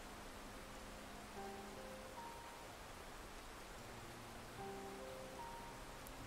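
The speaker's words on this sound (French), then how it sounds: "La pluie là." Rain in the video game Sonic Frontiers, a faint, even hiss of falling drops throughout, with soft musical tones rising in short sequences over it.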